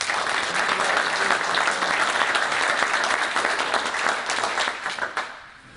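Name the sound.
audience applause after a panel discussion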